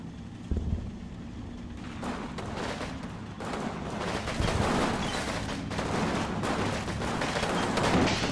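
Mortar and gunfire crackle through a video game battle at Aachen, with dense overlapping bursts and thuds continuing steadily throughout at moderate volume.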